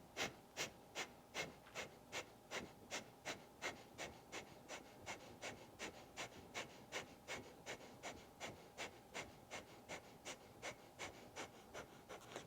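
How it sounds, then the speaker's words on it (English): Sharp, rhythmic exhales from a yoga breathing exercise repeat steadily at about two per second, close but soft, with no talk over them. "sharp exhales."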